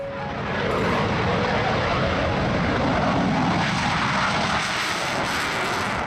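A Eurofighter Typhoon fighter jet flying, with a loud, broad, steady engine roar that builds in the first second and then holds, heard close and alone.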